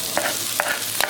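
Crushed ginger and garlic frying in oil over a medium flame for tempered rice, with three quick stirring scrapes over a soft, continuous sizzle.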